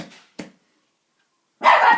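Several dogs burst into loud, close barking near the end of the clip, after a brief stretch of quiet broken by a couple of faint household sounds.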